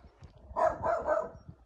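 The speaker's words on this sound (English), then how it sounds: "And my dogs are barking over there." A few dogs bark in the distance on a horse property. Three quick, muffled barks come at an even pace, faint and far off, with no other sounds.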